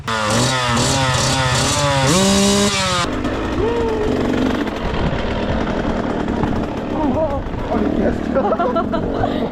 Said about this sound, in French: le quad ne passe pas au contrôle technique. Il est passé à 119 décibels